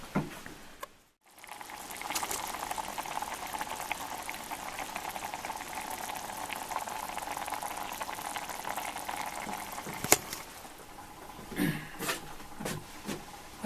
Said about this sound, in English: I've got an M2 with a donut wick taken off to simmer this TVP